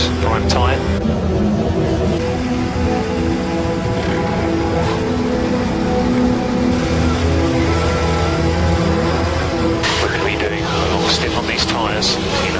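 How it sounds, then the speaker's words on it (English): A Mercedes Formula 1 car driven by Nico Rosberg screams past during the 2014 season, a loud sustained engine roar with a rising surge, under constant commentary and crowd-level background noise. "Nico Rosberg in the Mercedes as he now blasts past"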